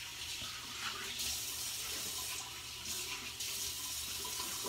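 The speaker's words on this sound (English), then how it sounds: "Now I'll rinse off." Tap water running steadily into a sink as a face is rinsed after a shave, a continuous close splashing hiss with slight shifts in flow.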